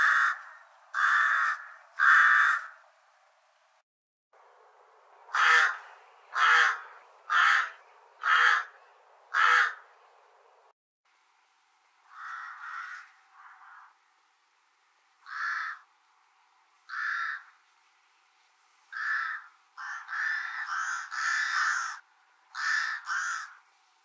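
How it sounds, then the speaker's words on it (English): A rook calls repeatedly, giving harsh, coarse, unmodulated caws in short bursts with brief pauses between them. It is fairly close and there is no other sound. "The rook call is very similar to that of a hooded crow, but more coarse and unmodulated."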